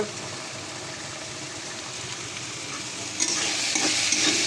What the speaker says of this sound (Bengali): আমি লাউটা রান্না করছি